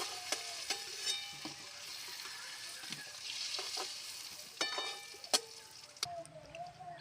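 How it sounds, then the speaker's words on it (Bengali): Chati prawns fry in oil in a wok, with a soft continuous sizzle broken by sharp scrapes and knocks of a spatula, close and quiet. "মাছটা খুব সুন্দর করে ভেজে নিয়েছি"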